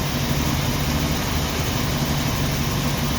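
Engine of a 1990 Jeep Wrangler idling rough, a steady close low rumble with uneven throb and broadband noise, no voices.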